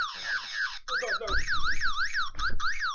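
During a fire alarm test, a loud warbling electronic alarm cycles steadily, pausing briefly a couple of times, with low thumps and faint background noise beneath it.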